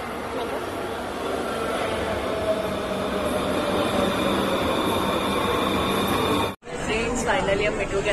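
Delhi metro train noise at a station platform, a steady broad rumble with rail hiss under crowd murmur and talk, broken by a brief sharp drop near the end before the sound resumes.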